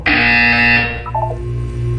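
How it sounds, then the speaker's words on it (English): A loud, sustained electronic buzzer from the video game Portal 2 sounds alone for under a second, then gives way to a softer tonal hum with a brief descending chime. "When you hear the buzzer, look up at the ceiling."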